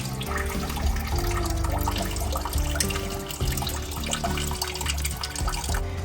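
Engine coolant from an old 265 Hemi drains out of a pipe into buckets, a steady broadband splashing and trickling stream that runs continuously and fairly loud throughout, with no talk.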